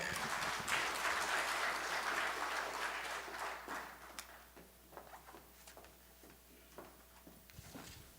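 A church congregation at a Friday prayer meeting applauds as a deaconess comes forward to give her testimony: dense, steady clapping that is loud at first, then thins over the last few seconds into scattered, fading claps.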